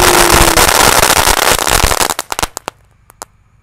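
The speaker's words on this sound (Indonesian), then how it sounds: "Malam hari ini kita menyalakan 2 air mancur kerucut Conic ukuran 4." Dense, loud crackling from a size 4 cone fountain firework at night fizzes continuously, then thins into scattered pops and snaps before fading out.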